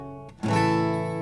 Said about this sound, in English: So it's going to sound like this with just single strums.